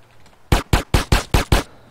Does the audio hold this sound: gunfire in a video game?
yes